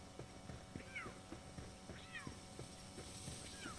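A cat meows indoors, several short rising-falling calls spaced out over a steady background of game audio and room noise, moderately faint.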